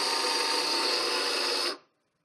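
Electric grinder whirring steadily as it grinds nuts, herbs and spices, a loud close buzzing drone that runs unbroken for under two seconds and then cuts off abruptly.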